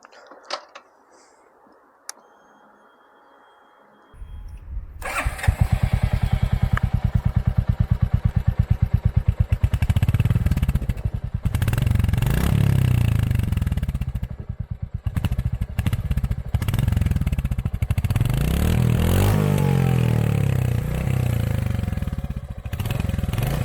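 A 2023 Royal Enfield Hunter 350 motorcycle, silent at first, fires up after about four seconds, then runs close by with a loud, steady single-cylinder thump and a few revs.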